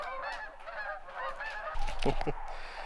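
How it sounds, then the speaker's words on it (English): A flock of geese honks repeatedly overhead, overlapping calls rising in a noisy chorus, with a burst of louder honking and rustling partway through. "that is a lot of birds flying overhead"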